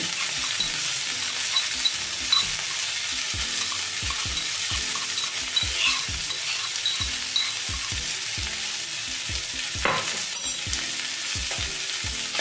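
Grated ginger and crushed garlic fry in a pan over low flame, a steady sizzling hiss under a regular series of sharp spatula taps and stirring scrapes, with no talking.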